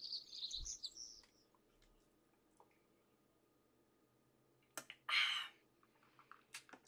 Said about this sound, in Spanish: el juego solo se escucha ahora a los pájaros